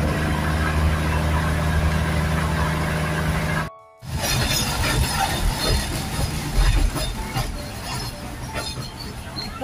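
Passenger train in Thailand running between Ko Ho and Mueang Thi stations, a steady loud rumble of wheels and engine with a brief cut partway through, then continued rattling and clatter throughout.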